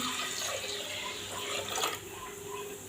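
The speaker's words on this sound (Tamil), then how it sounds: "இப்போது இதுக்கு நம்ம ஒரு ஆறு டம்ளர் அளவு தண்ணி சேர்த்துக்கலாம்" Water runs steadily into a cooker for ven pongal, a continuous close splashing stream that swells briefly near the end.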